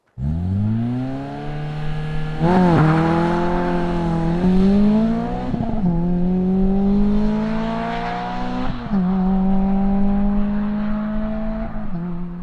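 Lotus Elise with its Toyota 2ZZ 1.8-liter engine revving hard through several gear changes, each pull rising in pitch then dropping, loud and close with no talk.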